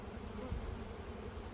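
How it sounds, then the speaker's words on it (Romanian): Honeybee colonies buzzing at populated hives in an apiary, a dense continuous hum of many bees close by, steady and even with no speech over it. "Iată de ce de bine populate sunt familiile de albini."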